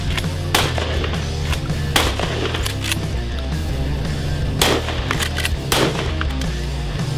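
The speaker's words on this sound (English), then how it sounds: "they get to use a SPAS 12 shotgun" SPAS 12 shotgun fired on a timed shooting course, several sharp loud blasts spaced irregularly over a steady background with low music-like hum.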